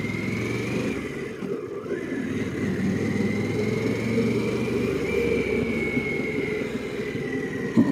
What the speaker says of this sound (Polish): dźwięk silnika jest taki fajny, taki potężny